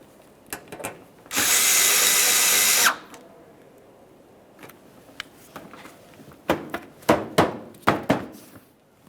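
A power tool snugs a corner bolt into the wheel well of a 2009-2014 Nissan Maxima 3.5L V6 during radiator replacement, one loud sustained drill burst followed by softer scattered clicks and metallic taps.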